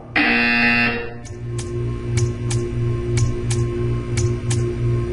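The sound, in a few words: buzzer sound in video game Portal 2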